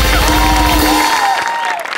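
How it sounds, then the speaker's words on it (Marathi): An audience applauds to welcome the performers of a Marathi comedy show, with dense, loud clapping at first that fades over two seconds while a musical tone plays over it. "त्यांचं टाळ्यांच्या गजरात स्वागत करूया."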